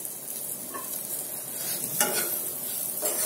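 Green chillies frying in masala for a spicy mirchi fry, a continuous close sizzle with three distinct scraping strokes of a spatula against the pan, no talking.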